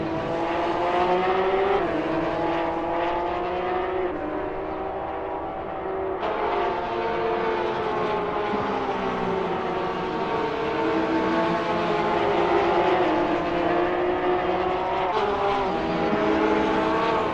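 Several Porsche 911 race cars in a racing video game brake for a turn at the Red Bull Ring, engines droning and shifting pitch as they slow, a steady loud whine with no talk.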